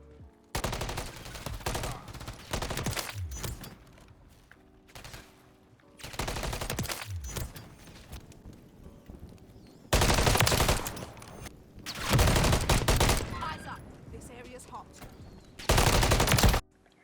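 Gunfire in the video game Call of Duty MW3 during ranked play, with loud close bursts of rapid automatic fire in several separate volleys and quieter in-game ambience between them. No voices can be heard.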